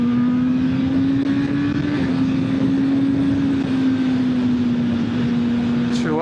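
Engine of a 2025 Honda CB1000 Hornet SP motorcycle revving, a loud close drone holding a fairly steady pitch with slight rises and dips, ending with a brief sharp click.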